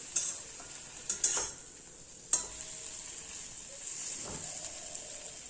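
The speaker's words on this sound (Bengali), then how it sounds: "মশলার সঙ্গে আলু সেদ্ধটা মাখিয়ে নেব। যেন সব জায়গায় নুনটা ঠিকভাবে ছড়িয়ে যায় এবং মশলাটাও সব জায়গায় ঠিকভাবে ফ্রাই হয়ে যায়।" Boiled potato being mixed into spices frying in a pan, with a steady hiss and a few sharp spoon scrapes and clinks against the metal, no voices.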